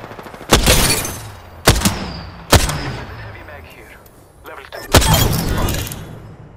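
Bursts of video game gunfire after switching to select fire with light ammo: four sharp, loud shots or short volleys spaced about a second apart, each decaying into echoing rumble, with faint talk underneath.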